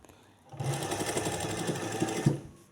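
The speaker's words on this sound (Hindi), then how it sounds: "सिलाई को स्टार्ट लेना है और आपने इस जो ओपन एरिया है इसको आपने इलास्टिक वाली एरिया को थोड़ा सा खींच के इसको क्लोज़ कर देना।" Sewing machine stitching a trouser waistband closed over elastic, starting abruptly and running in a fast, steady mechanical chatter for about two seconds before stopping, close up and without speech.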